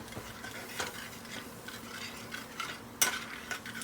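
A spoon scrapes and stirs gravy in a pan on the stove with a soft, steady sizzle underneath and a brief metallic clink near the end.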